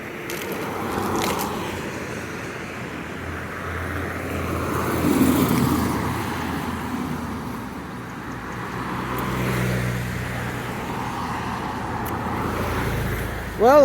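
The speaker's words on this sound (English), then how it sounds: "Well, all these cars, they don't obey the law." Steady traffic rolls past on a busy road near Milford, Pennsylvania, a continuous roar of car tires and engines that swells and eases as vehicles go by.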